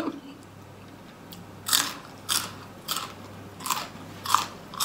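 Crisp food bitten and crunched five times in separate bursts, close and fairly loud over a quiet background; the meal is khanom chin rice noodles with green curry and fresh vegetables.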